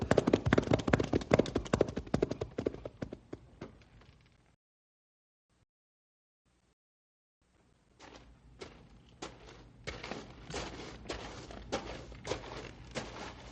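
Horses on a trail set off toward town at a walk, hooves clip-clopping in a dense, close rhythm, fading into silence, then returning as steadier, sparser hoofbeats.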